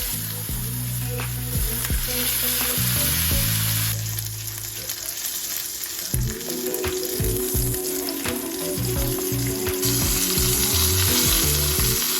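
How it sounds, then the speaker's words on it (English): Steaks start cooking in a hot pan with a loud, steady sizzle and crackle, plus occasional scraping and stirring, heard close and alone without any talk. "Here we're going to go ahead and start cooking these steaks."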